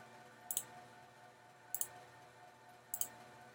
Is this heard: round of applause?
no